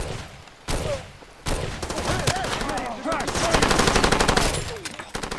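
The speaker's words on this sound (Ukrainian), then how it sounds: "Хоча кулемет має допомогти." Rapid bursts of machine gun fire in the video game Far Cry 2, loud and close, with sustained automatic volleys broken by short pauses and a sharp start near the beginning.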